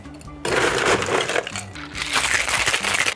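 Ice cubes rattle and crunch loudly into a cocktail shaker or glass, a dense clattering burst that starts abruptly and repeats in a second wave, with no talking.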